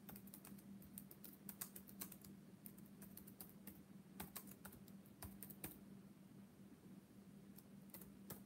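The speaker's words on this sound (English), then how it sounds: "I'm going to type it in." Rapid keystrokes on a computer keyboard, steady and close, with a low constant hum underneath and no talking.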